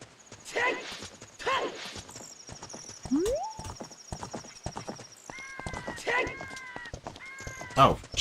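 Horse hooves clop in short bursts and a synthesized neigh rings out in The Legend of Zelda: Ocarina of Time 3D near Gerudo Fortress, with game sound effects and chimes layered between the steps.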